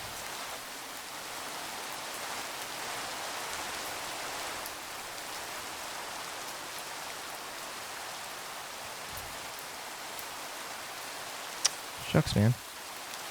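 Steady rain falls as a soft, even hiss that continues throughout, faint and constant. A few brief sharp knocks sound near the end and a man mutters once.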